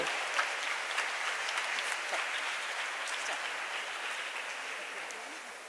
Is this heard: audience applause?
yes